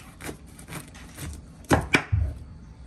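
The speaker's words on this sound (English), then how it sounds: "To prepare this, you just have to chop it in the middle." A kitchen knife chops through a karela (bitter melon) on a cutting board, landing a series of soft taps and then two louder, crisp thuds close by.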